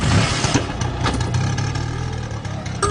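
Auto rickshaw engine idling and revving nearby, a rough, throbbing mid-pitched putter that holds steady for a few seconds with small surges.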